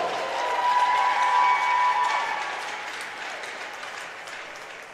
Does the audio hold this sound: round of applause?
yes